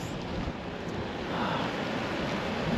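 Steady roar of wind buffeting the microphone in Ely, Nevada, broadband and rumbling, strengthening slightly partway through, with no voices.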